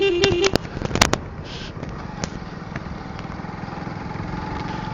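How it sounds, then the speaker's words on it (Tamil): Hero Splendor Plus 2025 motorcycle engine running smoothly while riding in fourth gear, a steady low drone throughout with a few sharp clicks and knocks near the start. "இப்போ 4வது கியர் தான் போட்டிருக்கிறேன், பட் இன்ஜின் வந்து எந்த ஒரு லேகும் இல்லாமல், கியரில் வந்து எந்த ஒரு லேகும் இல்லாமல் நல்லா ஒரு ஸ்மூத்தாக வண்டி ஓடிக்கிட்டு இருக்குது."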